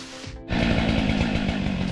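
A Stihl 500 chainsaw, about to clear a huge log, roars to life about a quarter of the way in and then runs loud and close at steady high revs to the end.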